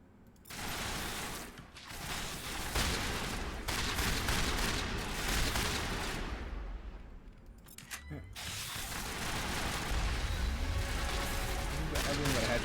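Gunfire in Mass Effect on Noveria, with rapid bursts of shots and mechanical clatter coming in waves, a short lull in the middle, then sustained firing with game effects mixed in.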